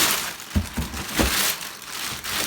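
A black plastic gift bag crinkles in short bursts, several brief rustling crackles spaced unevenly and close by, with no voices over them.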